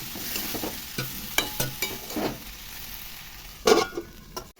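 Rice, boiled potatoes and prawns sauté in a pan, with a low frying sizzle broken by scattered scrapes and clinks from a utensil stirring nearby.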